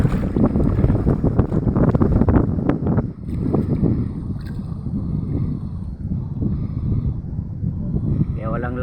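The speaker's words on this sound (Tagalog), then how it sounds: "Oh, lakas ng hangin oh." Strong typhoon winds from Typhoon Carina in Bicol, Philippines buffet the microphone with a steady low roar throughout, while a person talks over it.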